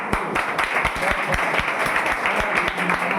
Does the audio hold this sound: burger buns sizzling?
no